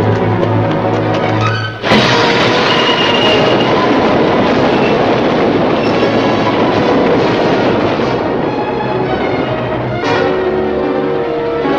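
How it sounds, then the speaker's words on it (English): A steam-era locomotive train rumbles loudly and continuously after a sharp onset, a dense mechanical roar with clanking undertones running to the end, no voices over it. "Boss, it is a train."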